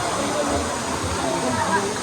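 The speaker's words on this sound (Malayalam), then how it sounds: "എത്തി നമ്മൾ വാട്ടർഫാൾസിലേക്ക് എത്തി" Steady, full rush of water pouring over a waterfall on a rainy day in Malappuram, a dense continuous roar heard up close with voices talking over it.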